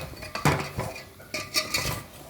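Fried khaja are stirred through sugar syrup in a pan with a metal spoon, giving a few sharp clinks and scrapes against the pan, close and irregular, with sticky sloshing between strikes.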